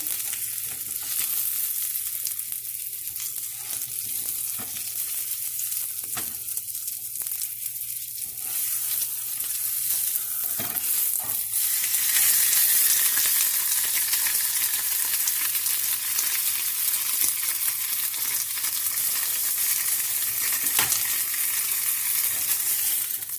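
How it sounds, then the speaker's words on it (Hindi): Chicken browning in a pan with a little oil gives a steady, close sizzle that hisses on without pause and grows louder and brighter about halfway through, with no voices over it. "इसमें हल्के से ऑयल में इसको फ्राई कर लेंगे।"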